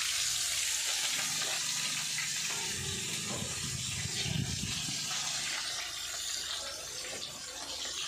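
Fish fries in a pan with a steady, loud, close hiss and crackle that fills the whole stretch, swelling slightly in the middle and easing toward the end, without talk.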